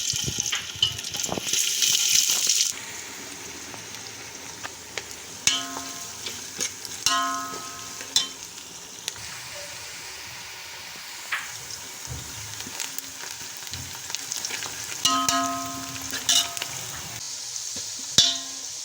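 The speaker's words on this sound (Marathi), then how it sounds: "आणि यात आपण कांदा टाकून घेणार आहोत।" Onions fry in oil in a large pot for chicken dum biryani, with steady sizzling and bursts of stirring and scraping, moderately close, and no talk.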